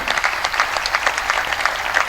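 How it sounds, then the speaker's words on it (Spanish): An audience at an extraordinary assembly gives an ovation of dense, steady applause from many hands that stays fairly loud throughout. "les pido un aplauso, una ovación"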